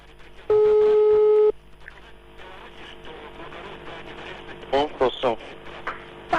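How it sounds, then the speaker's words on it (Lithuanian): A telephone tone sounds while a radio-station call connects: one steady held beep of about a second, then a quiet line with faint hum before a short burst of voices. "Gerai, Lukui skambino, jau sujungtas."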